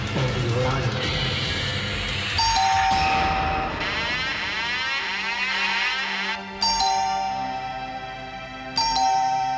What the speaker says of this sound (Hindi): कमाल है, 10 मिनट से घंटी बजा रहा हूँ।